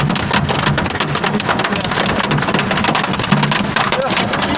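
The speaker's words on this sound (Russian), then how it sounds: "Охуеть, вот это град" Dense, loud hailstorm drumming steadily on a car, a continuous close clatter of many hits with no pauses, and a voice talking over it.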